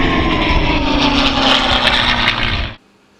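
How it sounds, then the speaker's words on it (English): A scale modeller's air compressor runs steadily and loud with a constant droning hum, then cuts off abruptly near the end, leaving near silence. "Shut up, compressor."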